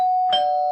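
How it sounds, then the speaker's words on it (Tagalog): An electronic doorbell chime rings with a sustained pure tone that shifts pitch once partway through, clear and close, with no other sounds around it. "buong inakala ko na doorbell talaga yun at inisip ko na ganito yun kapag gumagana"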